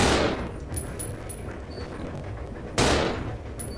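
Gunfire in the video game Resident Evil 0: two loud, sharp shots with a long decaying tail, one at the start and another near the end, separated by a low steady background hum with no talking.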